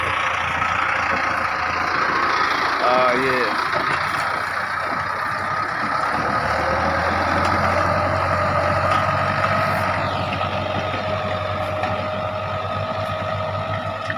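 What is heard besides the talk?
Mahindra tractor engine plowing field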